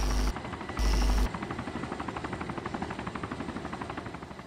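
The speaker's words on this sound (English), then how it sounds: "Well, the chopper is hovering pretty good." A helicopter hovers in the DayZ video game, its rotor thumping in a fast, even pulse after a couple of brief louder bursts at the start, with no talking.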